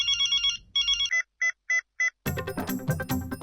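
A phone rings on an outgoing call in a Hindi TV sitcom: several short, evenly spaced ringback tones sound clearly in a quiet room, then a burst of loud, busy background sound takes over.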